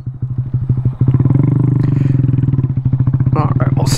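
A Honda ADV 150 scooter engine revs hard under full throttle, a loud steady pulsing drone that rises and holds close to the microphone, with a voice speaking briefly near the end.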